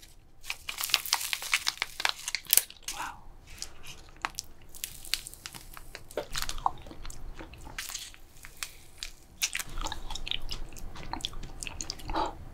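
Close, wet chewing and crunching of cookies and cream ice cream studded with crisp black cookie chips, with irregular bites and squishy mastication continuing throughout, no talking.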